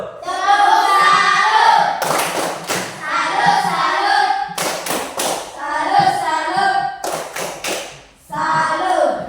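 A class of children performs the tepuk salut clapping game, with rhythmic bursts of hand claps and thumps alternating with stretches of children's voices chanting or speaking.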